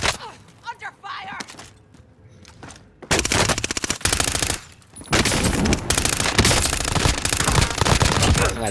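Rapid automatic gunfire in a Call of Duty battle royale match, scattered shots at first, then sustained loud bursts of machine-gun fire with dense overlapping reports, with players talking over the action.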